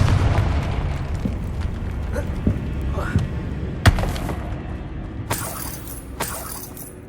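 The Confringo blasting spell in Hogwarts Legacy goes off in several sharp explosive bursts, the strongest a loud crack near the middle, over steady game ambience and music with no talk.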